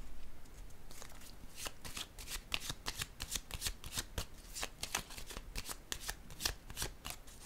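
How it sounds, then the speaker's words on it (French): Tarot cards riffle and slap as they are shuffled and drawn from a deck, a quiet run of rapid crisp flutters and taps with no talking. "j'ai le goût de piger une carte sur celle-ci"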